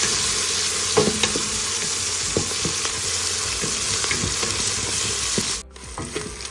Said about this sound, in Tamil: வெங்காயத்தை ஃப்ரெஷ்ஷாக போடுங்க. நல்லா வதக்கலாம்.